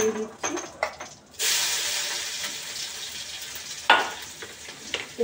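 Crushed garlic hitting hot oil with cumin seeds, a sudden loud sizzle burst after a few spoon clinks, then a settling hiss with a stirring scrape, heard up close.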